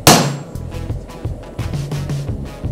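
Hammer strikes on a rounding hammer head being forged out at the anvil, a sharp loud blow at the start followed by a steady series of duller repeated impacts.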